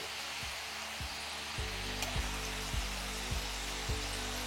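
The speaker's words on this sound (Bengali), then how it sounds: "আর এরপর যতক্ষণের মধ্যে কালার আসছে ততক্ষণ এটাকে ফ্রাই করতে থাকুন।" French fries frying in hot oil for a shop-style crisp texture, giving a steady close sizzle with a low bubbling rumble, and a few soft clicks or stirring knocks about every second.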